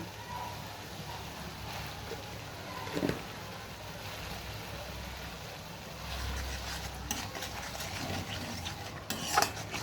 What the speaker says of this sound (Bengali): ভালো করে সমস্ত মশলা কষিয়ে নিচ্ছি।